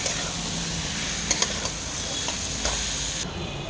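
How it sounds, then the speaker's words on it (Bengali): Boiled banana flower stir-fried in a pan, giving a steady sizzle and hiss with a few light scrapes and taps of the stirring utensil against the pan. "এবার এটা একটু ভাজা ভাজা করবো"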